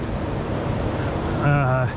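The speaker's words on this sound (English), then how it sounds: "It just takes a little timing, so you get a little wet there when the waves crash" Ocean waves wash against the rocky Mendocino coast with a steady, broad rushing noise and some wind buffeting, and a voice speaks briefly near the end.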